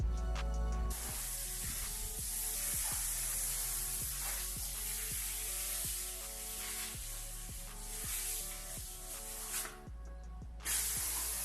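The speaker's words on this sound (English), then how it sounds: "I'll probably get the water hose and spray this out." A water hose sprays out an El Camino under construction, making a steady, close hiss that runs almost without a break and drops out briefly near the end.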